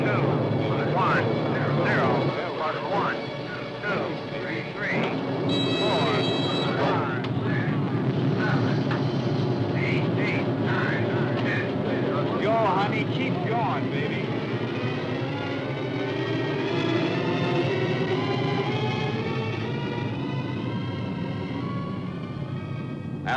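Atlas ICBM rocket engine igniting and lifting off at a 1957 flight test, a sustained roaring rumble that swells and holds steady, with a voice counting and calling out over it.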